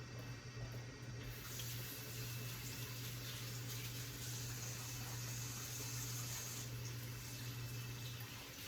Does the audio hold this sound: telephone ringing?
no